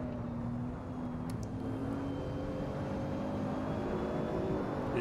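Steady droning engine of a Lamborghini race car in a sim racing game at Road America, a sustained whirring tone that holds level throughout, with a faint shifting pitch and no talk.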